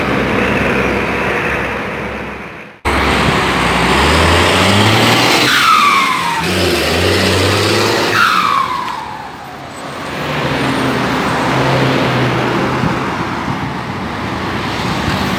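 A Volkswagen 17-210 truck diesel with a Schwitzer turbo and semi-direct exhaust, the turbo wastegate bypass left open, running loud and close, with a rising turbo whistle and revving sweeps between steady idling.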